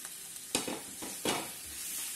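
Tomatoes, green chili and cashew nuts get stirred in a hot pan for paneer butter masala, with two sharp spoon scrapes against a soft, steady background sizzle, and no one speaking.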